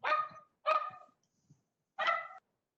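A dog barks during a North Perth council meeting, three loud, clear barks with short pauses between them, heard alone in a quiet room.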